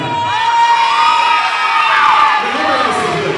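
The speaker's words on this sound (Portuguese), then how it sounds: "Salve de palmas, Marina." Children in a physics classroom cheering and whooping loudly, with high shrill shouts and rising voices over a general crowd roar that fades toward the end.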